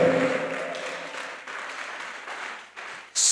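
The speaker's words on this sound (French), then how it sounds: "Clap for the Lord." Church congregation clapping during a sermon, a steady wash of applause over a few seconds with faint voices underneath, ending in a sharp louder burst.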